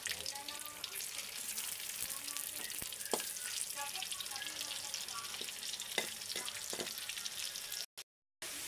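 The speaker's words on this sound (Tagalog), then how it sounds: "pipirito na natin yung squid ball guys" Squid balls fry in a pan with a steady, dense sizzle and crackle of hot oil throughout, dotted with small pops, then a brief cut near the end.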